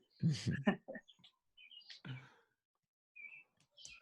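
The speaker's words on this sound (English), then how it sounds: "The birds are chirping." Outdoor birds chirp in short, thin calls on a humid day, scattered between bursts of nearby conversation and a few quiet gaps.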